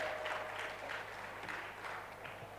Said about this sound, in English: Audience, can we have a huge applause for another panelist